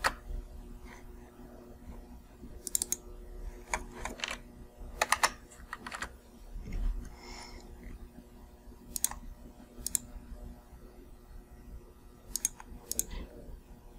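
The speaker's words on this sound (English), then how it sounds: "We can change any of these values by double-clicking and typing in a value." Computer keyboard typing and mouse clicking while a value is entered in MAPware-7000 software; scattered sharp clicks and short bursts of keystrokes, close and fairly quiet, with no talking.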